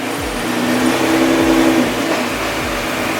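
A Nissan GT-R idling in neutral, a steady close engine rumble with a faint whine above it and a few brief low swells, with no talking.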